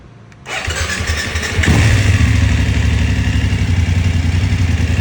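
A BMW F750GS motorcycle engine cranks and fires up after a repaired electronic throttle fault, then settles into a loud, steady idle close by with no talking.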